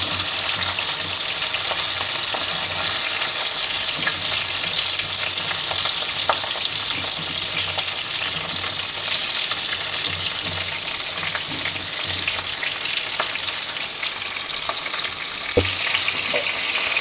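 Prawns frying in hot oil in a pan, a steady loud sizzle with crackling pops, one sharp clink near the end as they are turned.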